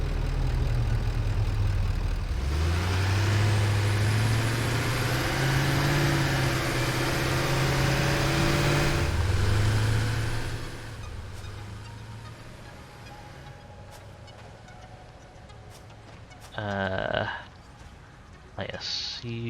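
A tractor engine in the video game Satisfactory runs with a loud, low droning hum for about ten seconds, then drops to a quieter idle with a few brief mechanical clanks near the end.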